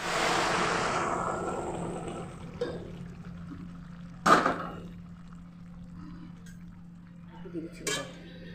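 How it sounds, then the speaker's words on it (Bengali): Hot water poured into a pan of boiled peas for ghugni, a broad rushing splash at the start fading out, followed by a few short clinks and splashes of a second small pour, with no talk over it. "সামান্য পরিমাণে একটু জল দেব দিয়ে দিচ্ছি গরম জল"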